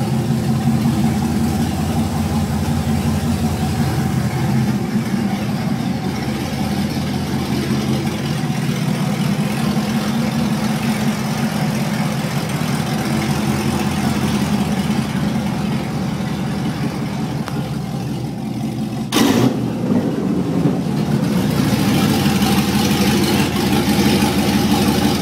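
A 4.8L V8 fitted with an LS2 cam in a 2004 Colorado idles steadily with a mild lope. The low, continuous rumble runs close and unbroken, with a brief clunk near the end.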